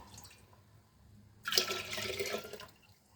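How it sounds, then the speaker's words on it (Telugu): Rice water being poured into a clay pot in a village kitchen, a steady splashing pour of about a second, fairly close, after a quiet stretch. "ఇప్పుడు ఈ రైస్ వాటర్ని ఈ కుండలో పోసేయాలి"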